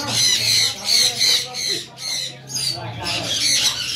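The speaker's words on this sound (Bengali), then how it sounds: "এটা হচ্ছে আফ্রিকান গ্রে প্যারট।" An African grey parrot at a Mirpur bird market in Dhaka gives repeated loud, harsh squawks in short bursts, with background chatter and market noise underneath.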